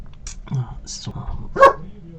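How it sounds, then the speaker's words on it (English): A dog barks a few times indoors, with a sharp louder bark near the end and quieter sounds between. "he's barking because he heard my hubby talking to our son out there"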